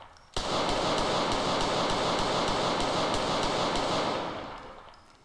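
Sustained automatic gunfire in GTA 4 multiplayer police gameplay, a loud continuous rattling burst that starts abruptly and fades out near the end.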